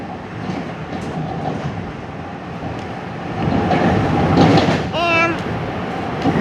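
Metro-North Railroad train heard from inside the cab, a steady rumbling run with rising rail noise midway and a brief squeal of wheels or brakes near the end.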